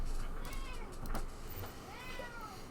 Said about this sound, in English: Here's my co-pilot, Captain Casey, meowing.